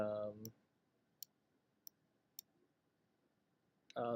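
Computer mouse clicks during photo editing, three sharp isolated ticks spaced about half a second apart in near silence, with bits of talk at the start and end.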